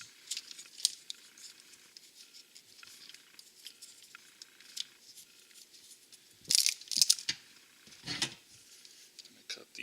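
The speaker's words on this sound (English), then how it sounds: "I'm going to cut these." Wires on a car wiring harness being snipped with cutters during race modifications to a Mustang, a few sharp clipping snaps close up near the end over quiet handling noise.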